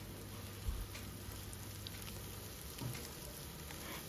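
Chopped onions frying on a medium flame for an egg kosha, a faint, steady sizzle and crackle throughout.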